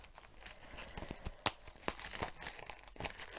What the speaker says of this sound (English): So I've just cut into the jiffy bag.